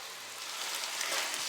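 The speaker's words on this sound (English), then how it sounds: "So continue frying up your meat until you start to see that nice golden glaze over the top." Meat sizzles in a pan while being fried for a pot roast, a soft, steady crackle with no talking, fairly faint and even throughout.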